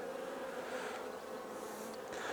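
Steady, close buzzing of bees, a continuous droning hum that holds level throughout with no voices.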